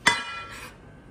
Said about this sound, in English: Nearly smashed a bowl on the middle of my dining table.